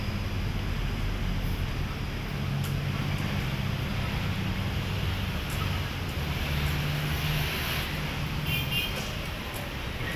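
Steady wind and rolling surf along the seaside at Manila Bay's Dolomite Beach, a constant low rumble of waves with wind buffeting the microphone throughout, no voices.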